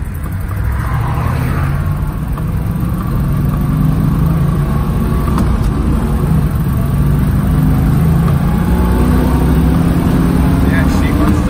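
A 1968 Chevrolet Camaro engine roars steadily and loudly while the car accelerates on the road, a continuous deep rumble with heavy wind and road noise throughout.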